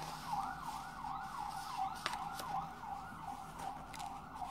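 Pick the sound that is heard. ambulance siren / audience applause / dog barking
ambulance siren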